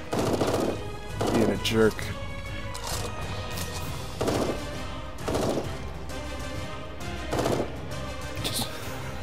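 Gunshots in the early-access survival game Eden Star: loud cracking shots and crashing impacts land every second or two over a dense, steady game soundscape, with a voice speaking briefly.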